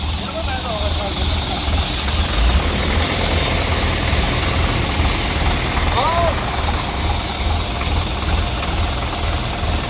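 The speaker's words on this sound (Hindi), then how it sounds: "ट्रैक्टर के थ्रू खींच के निकाल लिया है इसको।" A tractor engine drones steadily and loudly while pulling a truck out of rain-soaked mud on a farm, with a low heavy rumble throughout and brief voices in the background.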